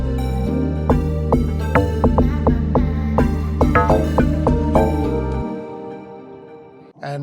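An amapiano log drum in FL Studio, tweaked for a distorted, longer sustain, thumps out a deep pitched pattern under tight percussive clicks and chords, loud and close, then fades into a brief tail.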